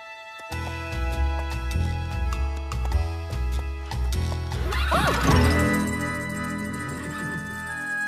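A horse gives a wavering neigh midway through, heard over continuous music that plays throughout.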